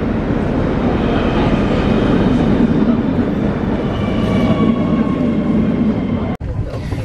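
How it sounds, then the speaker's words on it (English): A train to the airport rumbles steadily from inside a carriage, a low continuous roar with faint whining tones and a brief sharp click near the end, travelling between Copenhagen and Malmö. "So this is our train."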